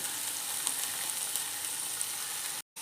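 Potato pieces fry with salt and turmeric in hot oil, giving a steady, close crackling sizzle, then a brief break near the end before the frying noise resumes.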